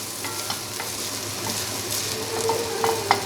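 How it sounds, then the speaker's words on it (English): Prosciutto fries in a pan with a continuous bright sizzle and crackle, small pops and scraping stirs scattered throughout, close and fairly loud. "It doesn't take long to fry up this prosciutto."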